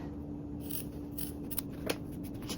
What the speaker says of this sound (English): we'll snip our corners of both the top and the bottom, ensuring that we do not cut into any of the stitches